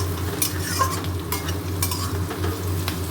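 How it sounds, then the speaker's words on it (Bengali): Potatoes and onions frying in a pan, a constant sizzle under repeated scraping stirs of a spatula, close and fairly loud, with no talking. "আলু আর পেঁয়াজ ভাজা হচ্ছে।"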